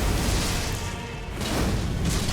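A heavy, booming explosion from an Elden Ring boss fight against a tree, with magma fire involved. It sounds like a broad, dense roar that stays loud throughout, dips briefly in the middle and then surges back.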